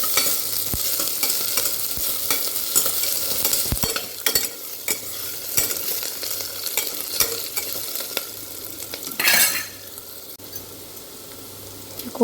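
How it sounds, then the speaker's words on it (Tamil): Green chilli, crushed garlic and grated ginger sautéing with softened onion in a pan for beetroot vegetable biryani: continuous loud frying hiss with repeated spoon scrapes and knocks, close by, no voices. "சேர்த்து நல்லா வதக்கலாம்."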